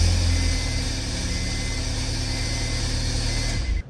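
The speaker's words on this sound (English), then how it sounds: "it will actually start and stay running." A 2000 Honda Prelude engine, one with a crank/no-start fault, runs up close at a steady low idle-like drone, loud and continuous before cutting off abruptly at the end.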